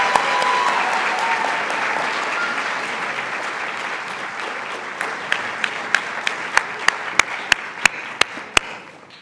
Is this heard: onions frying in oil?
no